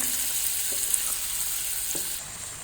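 Chicken frying and sizzling in a pan for butter chicken: a steady, bright hiss of hot oil with a few faint stirring clinks, close and continuous, with no voice over it.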